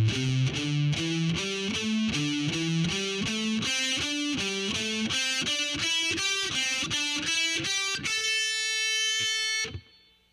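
Distorted electric guitar plays a heavy metal lick slowly, a long even run of roughly twenty picked notes climbing and falling, then a sustained ringing chord that cuts off near the end; no talking.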